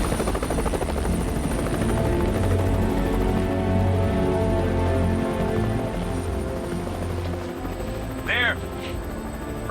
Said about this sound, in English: A specialist Air Force helicopter with night vision headsets has been drafted in